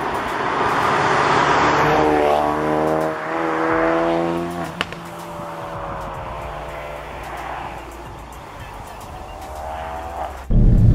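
A Ford Focus RS hot hatch engine revs and pulls hard on a twisty back road, rising and falling in pitch through gear changes, loud and close, with a sharp thump near the end.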